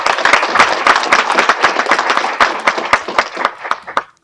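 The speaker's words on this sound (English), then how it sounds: "let's give a big round of applause for Grace Glenn" A council meeting audience applauds an award winner, dense steady clapping from many hands for about four seconds before tapering off.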